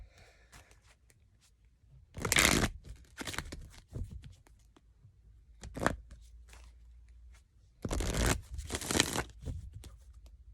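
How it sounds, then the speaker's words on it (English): A Heal Yourself card deck is shuffled in a quiet room, with soft rustling bursts of cards riffling and sliding against each other, a few louder flurries spaced apart among fainter handling noises. "I want to use this Heal Yourself deck."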